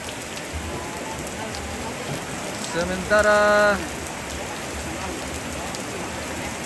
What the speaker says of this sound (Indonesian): Dan saat ini hujan semakin deras.